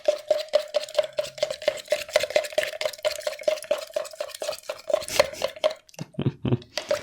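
A teaspoon stirs scone mixture in a bowl, giving a steady rhythm of scraping taps against the side, close and fairly loud, with a faint ringing tone running underneath.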